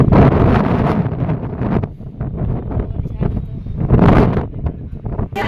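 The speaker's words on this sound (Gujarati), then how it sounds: "તો બહુ પવન છે આટલો" Strong wind on a rainy day gusts loudly against the microphone in rumbling bursts that swell, drop away briefly and surge again.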